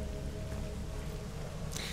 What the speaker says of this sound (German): Dieser Regen.